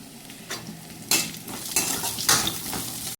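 Onions and spices with mustard seeds and cumin being stirred and fried in a pan, a low sizzle broken by several scraping strokes of a spoon against the metal, close and loud, with a sharp knock near the end.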